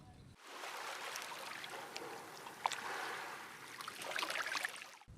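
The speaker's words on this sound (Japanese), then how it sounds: "この音は 波の 音です。" Waves wash gently along a Japanese shoreline, a soft, sustained rush of water with faint splashes, heard at a distance and fairly quiet.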